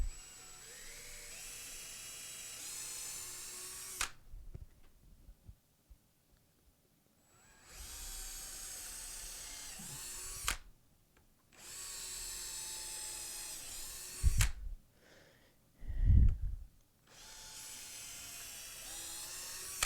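A cordless drill drives screws into a wooden anvil stand in several long whining bursts separated by pauses, with a few knocks and thumps between runs, loud and close.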